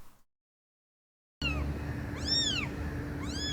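A cat meows twice in clear rising-falling calls after a stretch of near silence, close by over a steady low indoor hum.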